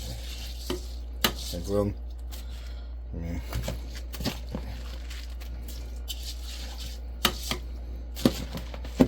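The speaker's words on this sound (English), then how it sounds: "let me finish putting the rice in" Rice poured into a kazan pot while cooking Uzbek plov, a soft granular rush with scattered clinks of a utensil against the pot and a person speaking over it.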